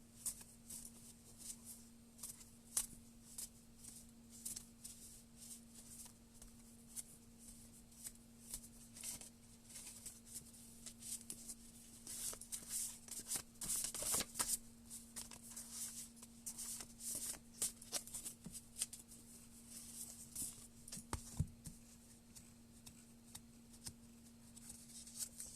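Soft, close riffling and sliding of oracle cards being shuffled for a tarot reading, quiet papery bursts over a faint steady hum, busiest near the middle.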